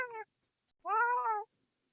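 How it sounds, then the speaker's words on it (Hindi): A cat gives two clear meows, a short one followed after a pause by a longer, drawn-out one, close and alone with no talk. "बिल्ली के साथ खेलते हैं।"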